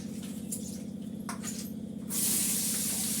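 Chopped bottle gourd drops into hot oil tempered with cumin seeds, setting off a sudden broadband hiss that holds steady after a quieter stretch of low hum and small clinks.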